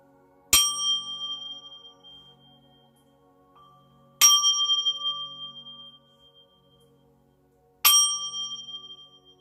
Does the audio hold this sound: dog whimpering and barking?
no